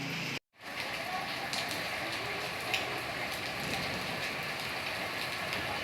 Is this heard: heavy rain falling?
yes